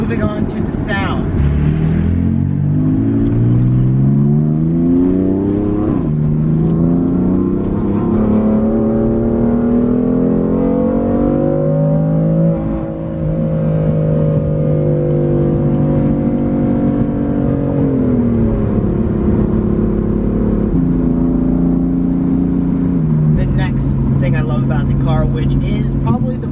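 A BMW M3 with a twin-turbo inline-six engine revs and climbs steadily, its tone rising and falling in long sweeps close by. Its sustained drone runs under continuous talking throughout.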